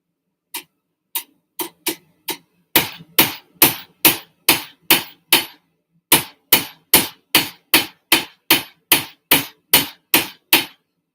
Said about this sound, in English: Don't be afraid to beat the heck out of it.